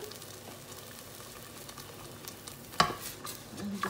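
Passata sauce sizzles in a hot pan for chicken tikka masala, a soft steady crackle, with a sharp clack of a spoon against the pan near the end as it gets stirred.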